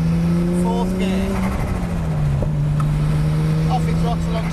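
A Nissan Skyline R34 GTR engine pulls hard on a race track, a steady loud drone under in-car conditions with a gear change partway through, as a voice gives driving instructions over it.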